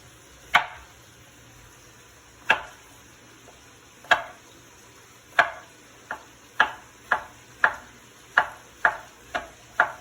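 Zucchini chopped on a cutting board, with sharp knife knocks spaced slowly at first, then coming faster and evenly, about a dozen crisp, close chops alone in a quiet room.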